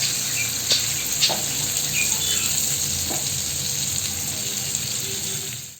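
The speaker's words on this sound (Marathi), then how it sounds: "या बाजूने पण ना आता आपण छान असे खरपूस भाजून घेऊया." Bangda mackerel sizzles steadily as it fries crisp in oil in a pan, Malvani style, a close, even crackle with a few sharp spits and pops and no talking.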